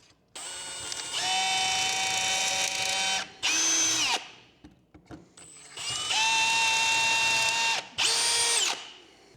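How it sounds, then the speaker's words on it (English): Power drill boring pocket holes in wooden stretcher boards clamped in a pocket hole jig, several loud whining bursts of a few seconds each with brief pauses and clatter between, close by. "then we're going to punch a couple pocket holes in here"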